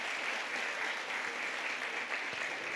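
Church congregation applauding during a Sunday celebration service, a fairly faint, even wash of many hands clapping that holds steadily from start to finish without talk.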